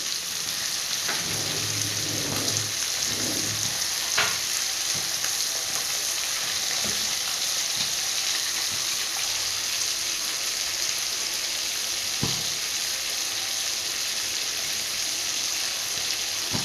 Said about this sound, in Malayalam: ഞാൻ ഈ ഒരു ലെവലിലാണ് വറുത്തെടുത്തേക്കണത് കേട്ടോ